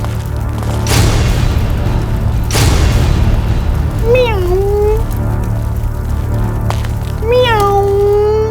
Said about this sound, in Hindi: छोटी सी प्यारी सी बिल्ली है, बिल्ली।